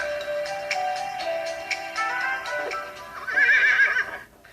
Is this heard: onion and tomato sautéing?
no